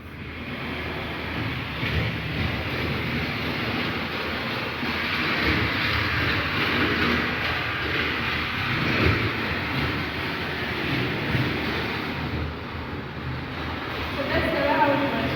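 An old train runs in a demonstration at the Uganda railway museum, a steady rumbling, rattling roll that holds for the whole stretch while people talk over it.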